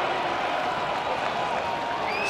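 Rugby crowd at a Bath versus Leicester Tigers Premiership match, a broad, steady roar of cheering and applause from the stands with a commentator talking over it.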